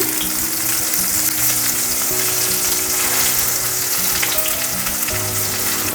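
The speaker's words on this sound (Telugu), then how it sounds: "ఒక 5 నిమిషాలు మీడియం ఫ్లేమ్లో ఇలా ఆయిల్లో వేయించుకుంటే ఈ బీరకాయలన్నీ బాగా మెత్తగా అవుతాయి" Stuffed ridge gourd pieces fry in oil with curry leaves and mustard seeds over a medium flame, giving a steady, dense sizzle with faint crackles throughout, close and continuous.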